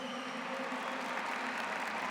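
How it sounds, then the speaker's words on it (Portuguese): A congregation in a Portuguese-language Catholic church claps together in a steady wash of applause, with a faint sustained tone running underneath. "Pode aplaudir essas duas."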